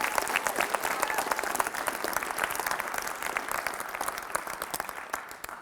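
An audience of athletes applauding in a room, dense steady clapping from many hands that thins slightly toward the end, with faint voices mixed in.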